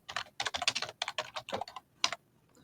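Quick, close typing on a computer keyboard, a burst of rapid keystrokes with a brief pause before the final few taps.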